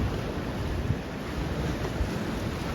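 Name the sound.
ocean waves rushing onto a beach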